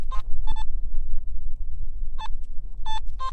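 Several short electronic beeping bursts from a metal detector held near a rock, spaced irregularly, over a low rumbling background of wind or handling noise.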